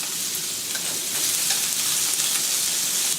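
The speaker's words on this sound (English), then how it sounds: "let's add the prawns to the pan" Prawns frying in a hot pan during a Chinese noodle stir fry, a steady dense sizzle with crackling spits throughout, close and fairly loud, no talking.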